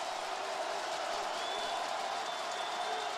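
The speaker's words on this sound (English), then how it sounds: "The crowd letting him have it." A college football stadium crowd at an Idaho vs Temple game gives a broad, steady wash of distant crowd noise on a third-and-ten play, with no clear words and no lulls, the jeering blending into a continuous roar.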